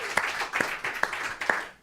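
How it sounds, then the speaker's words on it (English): Applause from an audience at the IRT theater in Indianapolis for the opening of Every Brilliant Thing, a brief burst of clapping with a few sharper claps standing out over a steady patter. "There's some applause, some IRT people."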